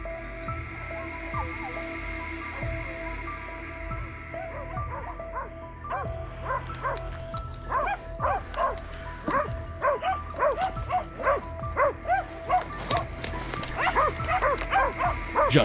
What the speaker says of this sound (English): the sharp baying of hunting dogs immediately caught his attention